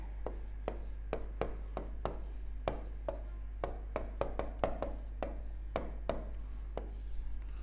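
Chalk or marker writing out a cell reaction on a board in a chemistry lesson, heard as crisp, fairly regular strokes and taps about every half second over a steady low hum.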